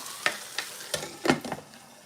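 Food cooks in a pan with a soft, low sizzle broken by several scraping stirs and light clatters, fairly quiet and with no talking.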